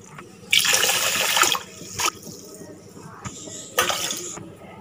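Water splashes as it is poured into a pot of lentils for sweet pongal in two short pours, with a faint clink and a voice talking underneath.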